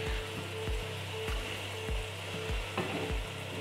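Ground spice masala frying with softened onions in a pan for shahi chicken korma, a steady close sizzle with soft, rhythmic stirring scrapes throughout and no talk.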